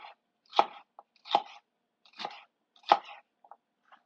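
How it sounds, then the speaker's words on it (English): Celery being chopped with a knife on a cutting board, five distinct crunchy cuts spaced about a second apart, close and clear with a few faint smaller taps between them. "Chopping up some more celery here."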